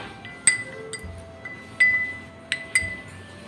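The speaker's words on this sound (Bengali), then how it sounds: "মশলাটা এখন ভালোভাবে মিক্সড করে নিচ্ছি।" Spoon clinking against a bowl as chili powder, chaat masala and salt are stirred together for homemade potato chips, a handful of sharp glassy taps spaced irregularly over a faint background.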